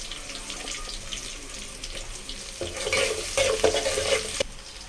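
Chopped onion frying in a pan, a moderate sizzle with scraping stirs that grow louder and busier toward the end.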